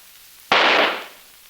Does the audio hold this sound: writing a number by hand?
no